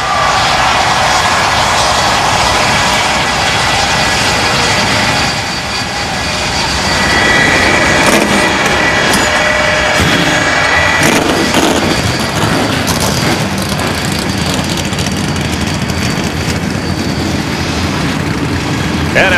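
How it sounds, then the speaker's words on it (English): Stock car engines roar together on the starting grid at Richmond before the 2002 Pontiac Excitement 400 night race, a loud, dense, sustained rumble that holds steady for the whole stretch with no talk. "the engines have been fired"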